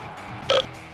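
A single loud belch from a footballer during his time at Lazio in Italy, bursting out briefly at mid-clip over a low murmur of background noise.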